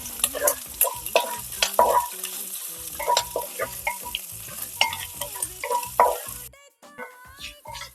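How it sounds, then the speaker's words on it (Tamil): Fenugreek seeds, ginger and garlic sautéing in a pan for a Hogenakkal-style fish curry, with a steady sizzle and repeated scraping stir strokes, loud and close, easing briefly near the end. "இதை நல்லா வதக்கி விட்டுக்கலாம்."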